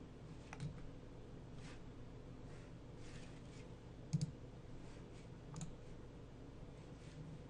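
Faint computer mouse clicks on a desk, a few scattered single and double clicks over a quiet background, with no talking.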